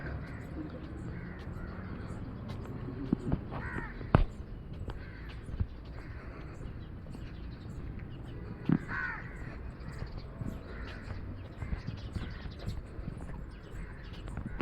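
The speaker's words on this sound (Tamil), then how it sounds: "காக்காலாம் பார்த்து ரொம்ப நாள் ஆச்சு" Several crows caw repeatedly at a distance in a cool hill-station setting in Kodaikanal, harsh calls scattered over a steady outdoor hum with occasional sharper knocks.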